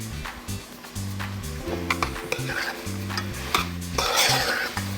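Geera pork sizzles loudly in a pot as a spoon stirs and scrapes it, giving rhythmic clanks and scrapes over a steady crackle, with the frying swelling louder toward the end.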